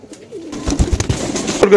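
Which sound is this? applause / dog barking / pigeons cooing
pigeons cooing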